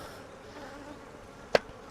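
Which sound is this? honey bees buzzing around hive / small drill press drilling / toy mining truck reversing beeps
honey bees buzzing around hive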